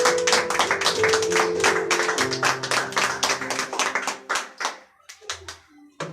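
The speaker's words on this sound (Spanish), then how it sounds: "Denle un aplauso" A church congregation claps during worship, a dense and steady patter of many hands over sustained keyboard tones that thins out and fades near the end.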